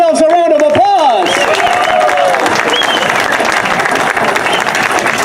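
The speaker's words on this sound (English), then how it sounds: "Let's give ourselves a round of applause" A large crowd in Salinas applauds and cheers at the opening ceremony of the city's 150th anniversary Founders Day celebration, with loud, sustained clapping from many people following a brief voice at the start.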